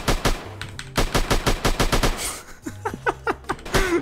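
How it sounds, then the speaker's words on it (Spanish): Rapid bursts of video game automatic gunfire aimed at a horse crackle in quick succession, loud and close, with a short pause before another volley. "si le disparo al caballo"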